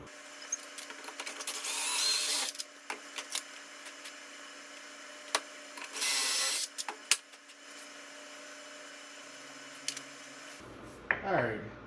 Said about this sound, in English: So I'm going to drill these holes here.